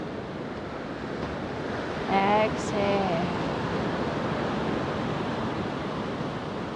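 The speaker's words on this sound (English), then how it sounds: "And then we can just enjoy the ocean view." Steady ocean surf wash fills the background throughout, with a calm voice speaking briefly over the waves.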